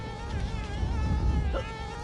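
Honeybees buzzing in the video game Conker's Bad Fur Day, a steady droning insect hum that wavers slightly in pitch and continues throughout.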